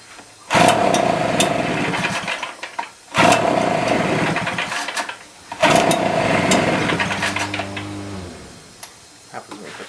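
Stihl BR400 backpack blower with a plugged spark arrestor, its engine catching and running in three separate bursts of several seconds each, cutting out between them, with faint speech nearby.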